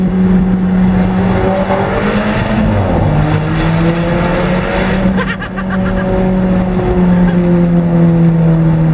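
A 2015 Alfa Romeo 4C sports car engine idles loudly and close after starting, a steady deep drone with a brief dip and rising rev partway through.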